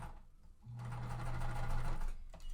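A sewing machine stitches quilt pieces with a quarter-inch seam allowance, starting after a brief pause and running steadily for about a second and a half before stopping, close and clear with no talking.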